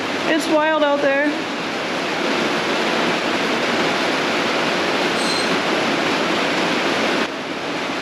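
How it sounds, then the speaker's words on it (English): Steady, heavy rain hisses outside as a constant dense wash of noise, with a person speaking briefly at the start. "Can y'all hear the rain? It's wild out there."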